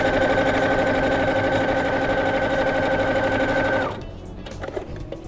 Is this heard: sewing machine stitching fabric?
yes